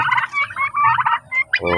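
Loud, close gobbling from domestic turkeys, a rapid rattling warble repeated in quick bursts, with no talking.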